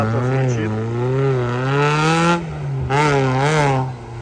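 An off-road trophy-sprint race car revs and drives in hot, dry conditions, its engine a loud, steady harmonic drone that rises and falls in pitch through repeated throttle swells, close to the listener.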